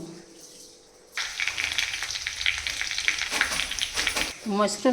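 Mushrooms frying with ginger, green chillies and tomato for a curry, a loud close sizzle starting suddenly after quiet and continuing with stirring scrapes.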